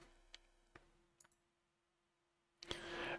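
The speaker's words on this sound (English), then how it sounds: "let's click on this order" A few faint, sharp mouse clicks while opening an order in the Shopify admin, spaced apart in a quiet room, followed by a brief louder rustle at the end.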